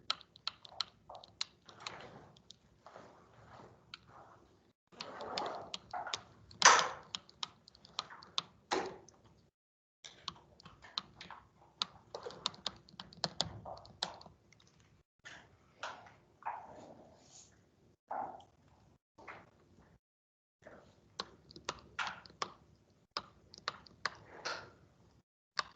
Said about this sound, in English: you do just want to be careful as you're typing things in